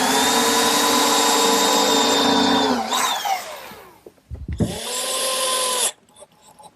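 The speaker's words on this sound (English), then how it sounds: "Now I'll just drill and countersink for the screws." A power drill bores and countersinks screw holes in sandbox standards in a woodworking shop: a loud, steady high whine with a pitch drop, a brief pause and clunk, then a second sustained burst that cuts off.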